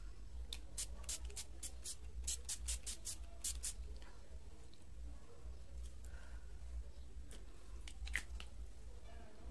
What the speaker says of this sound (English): to set the makeup I'm using the LA Girl Pro setting spray